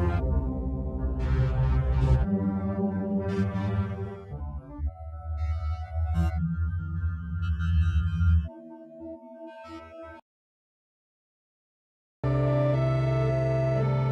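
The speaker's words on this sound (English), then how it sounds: "The swarm section injects some noise into the data, adding some turbulence to our sound." Swarm section of the K-Devices Holder plugin adds grainy noise turbulence to sampled, spectrally frozen sound: shifting tonal textures break into sparse crackles, drop to silence, then return as a dense wash.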